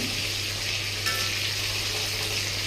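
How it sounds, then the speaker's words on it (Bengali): Fish fries in a pan until reddish, making a loud, steady sizzle throughout with a low hum underneath. "মাছটা লাল লাল করে ভেজে নিতে হবে গাইস"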